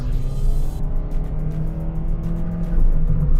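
A 2018 Toyota Sienta 1.5 V seven-seater taking a sharp curve, heard from inside the cabin: a steady low engine drone and road rumble, with a slight rise in engine note near the end and no talking.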